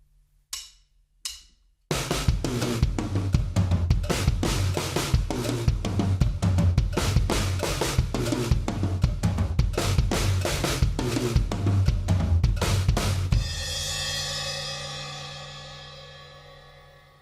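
A drum kit plays a busy fill around the toms, driven by steady kick drum and cowbell quarter notes, loud and dense for about twelve seconds before ending on a long ringing cymbal decay, with a couple of isolated hits beforehand.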